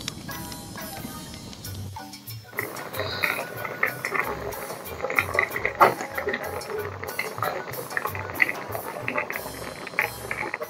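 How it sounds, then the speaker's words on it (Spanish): Pot of water boiling on the stove while corn dough tamales cook, a steady bubbling and rattling patter with irregular clicks, close and fairly quiet, carrying on alone throughout. "Tenemos que estar al pendiente, escuchando el agua, para que no se nos quemen."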